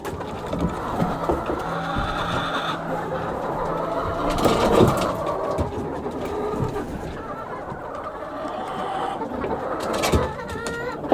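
Chickens cooing and clucking close by inside a coop on a Swedish homestead, with scattered rustling and soft knocks; no talking.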